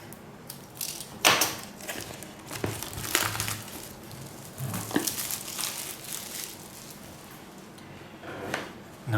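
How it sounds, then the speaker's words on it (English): A penknife slices through the plastic seal on a Huawei Y9 Prime 2019 phone box, with close crinkling and scraping and a few sharper rustles and knocks of packaging. "So, penknife right here. Let's go ahead and cut the seal open."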